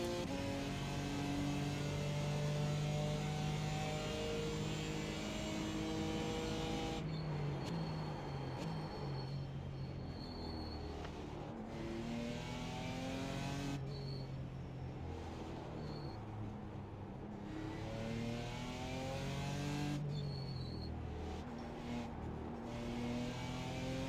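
IMSA race cars in a sim racing game at Mid-Ohio, engines repeatedly revving up through the gears with sharp shifts and a steady whirring drone, loud and close.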